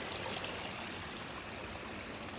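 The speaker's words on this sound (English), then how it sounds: "Look at the water coming out of the earth." Water trickling out of the ground at a ranch after rain: a steady, dense rush of flowing water, close and continuous, with no talk.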